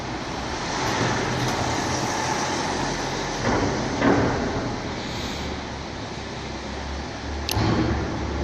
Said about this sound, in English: Another car is coming here.